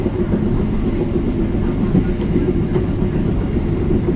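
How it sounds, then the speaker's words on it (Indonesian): Gajah Wong passenger train rolling past on rails near Lempuyangan station, a loud, dense, steady low rumble with faint rhythmic wheel clatter, close by and continuous throughout with no talk. "Kereta api apa itu? Gajah Wong."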